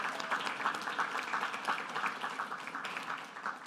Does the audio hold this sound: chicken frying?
no